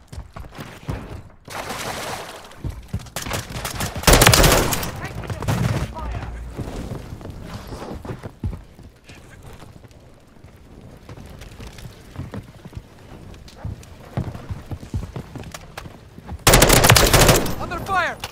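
Rapid automatic weapon fire from Call of Duty: Modern Warfare 3 team deathmatch, with loud close bursts around four and seventeen seconds and lighter scattered shots and battle noise filling the gaps.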